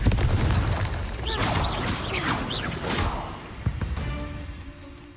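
A Confringo fire blast spell cast in Hogwarts Legacy, a loud whooshing burst with crackling energy and a sharp pop near the end, over ongoing game ambience.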